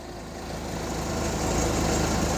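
A Hyundai forklift engine idles while running extremely rich, a steady, loud, close-up low rumble and drone that holds unchanged throughout, with no voices.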